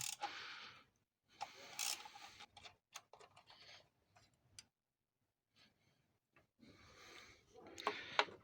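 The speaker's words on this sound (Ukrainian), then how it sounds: "беремо головочку на 10, викручуємо два болти" Two bolts being unscrewed with a 10 mm socket on an Opel Zafira engine, heard as quiet intermittent ratcheting clicks and small metallic rasps in short bursts separated by pauses, close by, with no talking.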